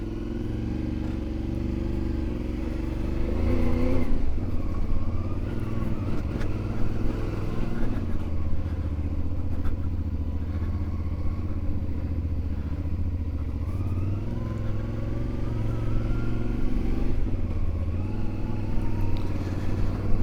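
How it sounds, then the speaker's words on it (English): A CFMoto 450 MT motorcycle rides through city traffic, its engine droning loud and steady throughout, with slight shifts in pitch as it speeds up and slows. "Let's start with city riding."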